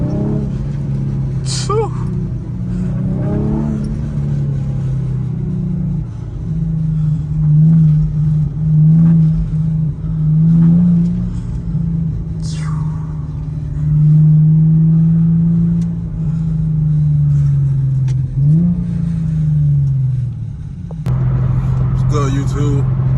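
An Infiniti G37 with a muffler-deleted exhaust rumbles deeply at idle, then swells through several rising revs. A voice briefly exclaims under the loud, close engine drone.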